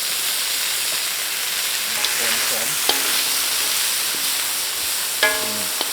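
Giant water bugs and grasshoppers fry in a pot, giving a continuous close sizzling hiss with a few sharp pops and scrapes of stirring, with no talk during the frying.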